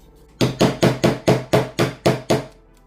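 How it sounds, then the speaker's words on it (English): Nine sharp, evenly spaced hammer blows ring out in a quick, steady rhythm, close and loud, with no talking, while hammering a piece in during taxidermy craft work. "Hammer it in."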